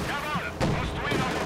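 Tank cannon fire in Company of Heroes 2, a short burst of booming in-game battle blasts with a sharp report partway through, mixed with game effects and a player's voice.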